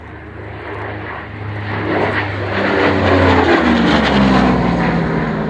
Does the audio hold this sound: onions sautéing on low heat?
no